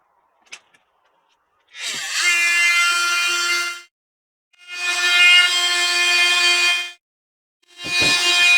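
Power tool sanding a Yamaha V-Star 1300 motorcycle's 12-inch high handlebar held in a vise, running in three loud sustained bursts of a couple of seconds each with short pauses between.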